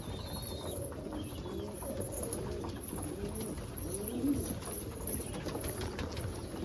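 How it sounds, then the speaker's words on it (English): Hungry homing pigeons feed on peas and safflower seeds in their loft, soft low cooing rolling continuously beneath faint pecking and shuffling, with a steady background hiss. "But this is the hungry birds eating."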